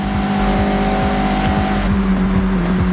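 A Mazda MX-5 engine in the racing game Forza Horizon drones loud and steady, its pitch repeatedly stepping through quick rhythmic shifts as the car is driven hard and sideways through corners.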